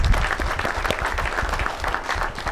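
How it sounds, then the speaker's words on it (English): A crowd applauding with dense, steady clapping that holds at an even level throughout. "Can you give her a big round of applause, everybody?"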